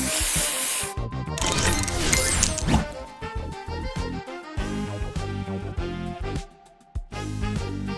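Spray booster effect in the Match Masters puzzle game: a dense burst of bright hissing spray with tinkling chimes, followed by a loud run of rapid clattering match hits and crashes.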